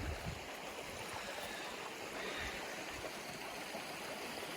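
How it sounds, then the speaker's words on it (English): A small mountain creek on a trail near Mt. Jefferson, its water rushing and trickling in a steady, continuous wash with no voices. "This is a gorgeous little creek."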